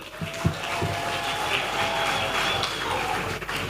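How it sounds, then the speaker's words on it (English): A crowd at a government brand-launch event in Uganda breaks into sustained applause, a thick, continuous wash of clapping with one sharp clap near the start. "Can I hear another round of clap?"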